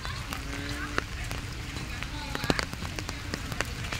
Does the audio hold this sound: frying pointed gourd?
no